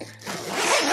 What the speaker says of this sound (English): The zippers work very nicely